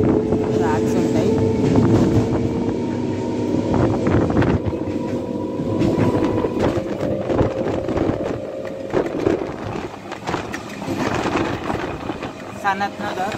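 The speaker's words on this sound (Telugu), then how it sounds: "departure from Bharat Nagar station" MMTS local train pulling out of Bharat Nagar station on the Lingampalli–Secunderabad line, a steady loud rumble of wheels on track with rattling carriage noise and wind buffeting throughout, faint voices beneath.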